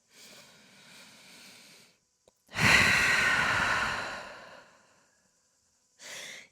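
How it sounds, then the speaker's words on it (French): Deep, slow breaths in a downward dog yoga pose: a soft exhale, a pause, then a long, loud inhale and the start of another breath, close to the mic with no talking. "Grande respiration en chien tête en bas."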